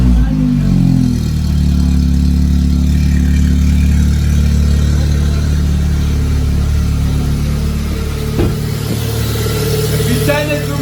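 An Audi S3 with its muffler deleted idles loudly and close by in a steady, deep drone that fills the whole clip.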